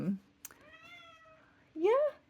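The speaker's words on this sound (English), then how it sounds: "Kitty's here. She's excited." A pet cat meows twice nearby, a drawn-out tonal call followed by a shorter, louder rising meow, with a quiet room around it.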